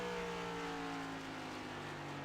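Race car on a short oval track, its engine note droning and dropping in pitch as it downshifts, heard faintly from a distance as a steady mechanical hum.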